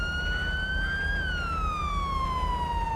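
A police car siren in GTA 5 wails, sweeping up and then slowly falling, steady and loud over a low engine rumble, with no voices.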